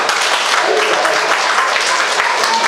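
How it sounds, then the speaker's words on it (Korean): A church congregation at a Wednesday evening worship service claps together in a dense, steady burst of applause that fills the room for a few seconds, with no voices standing out. "박수 한번 칩시다"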